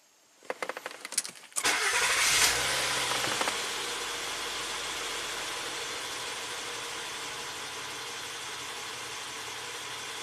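A Honda Accord with a VCM cylinder-deactivation misfire fault cranks and fires up nearby, then settles into a steady, even idle with a constant hum.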